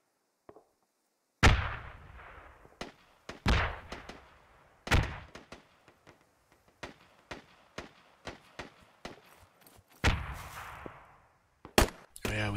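Gunfire crackles in a multiplayer shooter game set in woods: sharp single shots and short bursts, some loud and near, others fainter and distant, each trailing off in an echoing decay.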